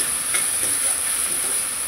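A steady, loud hiss of tomatoes sizzling as they go into a pan of fried onions, a constant frying sizzle with no talk over it.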